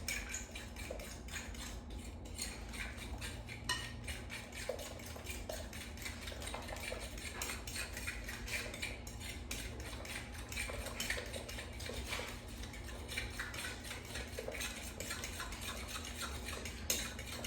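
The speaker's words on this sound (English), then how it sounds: "And now I'm going to whisk it with a fork until well combined." A fork whisks oatmeal muffin batter with baking powder in a bowl, making a steady, continuous scraping and clinking close by, even and unbroken throughout with no talk.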